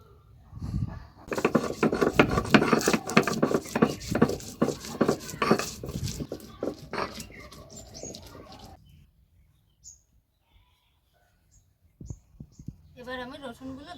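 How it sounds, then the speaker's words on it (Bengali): Onions ground by hand on a traditional grinding stone in a village kitchen give a close, rhythmic scraping and knocking that runs for several seconds and then stops, leaving faint scattered clinks and a little birdsong. "প্রথমে পেঁয়াজগুলো বেটে নেব।"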